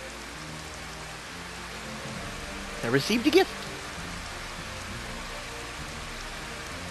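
Steady rain falls across a city in a Final Fantasy video game, a constant even hiss throughout, briefly interrupted by a short spoken phrase in the middle.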